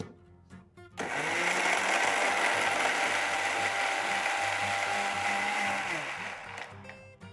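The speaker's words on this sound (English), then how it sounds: "Let's add in a few cubes of ice and give this a churn." A blender churns black grapes, honey and ice cubes: after a brief quiet start, a loud steady motor whirr sets in with rattling ice, holding for about six seconds before easing off.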